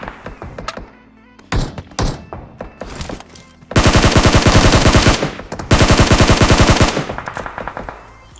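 Gunfire in the video game PUBG: scattered single shots and short bursts, then two long, loud sustained automatic volleys close up, each lasting a second or more, with brief gaps between.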